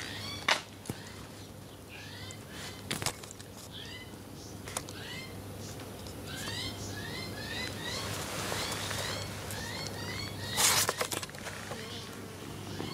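A cat gives repeated short, high mews and chirps at a moderate distance, spread across the whole stretch over a low steady hum, with a few sharp knocks and some speech nearby.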